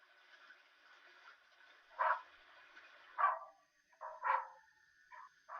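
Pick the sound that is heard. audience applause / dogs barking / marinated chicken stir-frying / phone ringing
dogs barking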